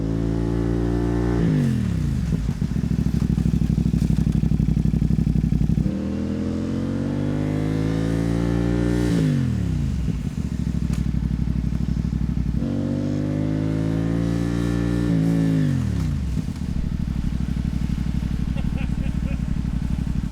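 A motorcycle engine revs up through rising gears, then winds down sharply as it brakes, repeated three times in steady cycles, loud and close.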